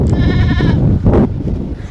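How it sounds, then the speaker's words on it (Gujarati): A goat in a village gives a single loud, close, wavering bleat, followed by quieter background noise and a brief rustle. "આપણી બકરી બોલે બરાબર."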